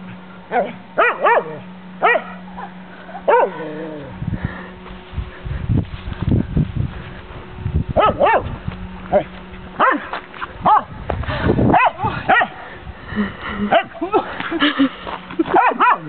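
Several dogs bark in short sharp bursts, with yips and whimpers mixed in, fairly close, while people talk over and between the barks.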